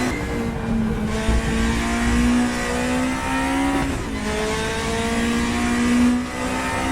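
A race car engine in a racing video game, played with a Fanatec Clubsport RS setup, revs hard with a steady rising whine, shifting gears twice as the pitch drops and climbs again, loud and close with no voices.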